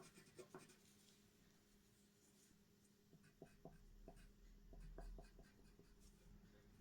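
A black pencil scratches quietly across paper in short, irregular strokes and taps, faint and close, while drawing feathery marks on a sketch of an ornithomimus dinosaur.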